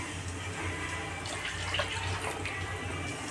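Water swirled and rinsed inside a mixer jar, a close sloshing and splashing with a steady running-water hiss, moderately loud, no voices.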